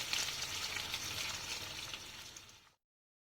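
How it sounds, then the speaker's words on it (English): Onions fry in oil with a soft, steady crackling sizzle close by that fades away into silence. "In the same oil, I'm just gonna fry the onions."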